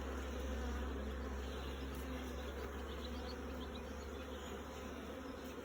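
Honeybees buzzing around an open hive during an inspection for a queen cage and laying worker, a dense continuous drone with individual bees flying close by, steady throughout with no voices.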